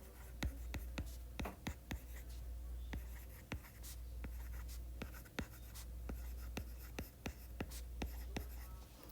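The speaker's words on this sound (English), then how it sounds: "We write these as a fraction." Someone writes math by hand: a rapid series of faint, sharp taps and scratches from the pen or marker, over a low steady hum and soft background.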